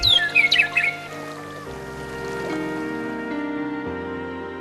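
Grassland birds on a ranch call in a quick burst of squawks and chirps at the start, over a bed of sustained tonal sound that carries on after the calls stop.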